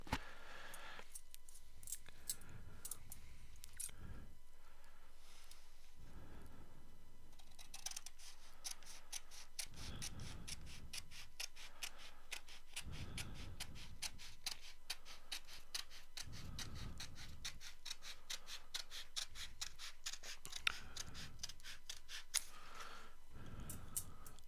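Scissors or a blade cut peel-and-stick wallpaper along a grout line, giving repeated short snipping and ticking sounds with bursts of crinkly paper handling, close and fairly quiet, with no talking.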